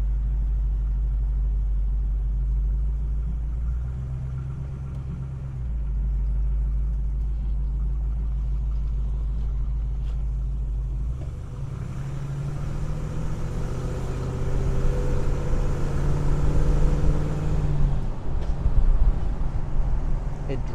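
A 1967 Chevrolet Chevelle SS convertible clone driving on the road, low engine rumble that shifts and builds toward the end, with wind noise and someone talking over it.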